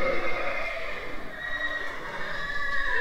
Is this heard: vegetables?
no